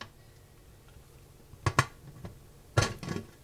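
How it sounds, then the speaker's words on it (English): The metal lid of a pressure canner that has come down from pressure is lifted off in a quiet room, giving a few faint clinks and two sharper metallic clacks a second apart. "So we have to take off the lid."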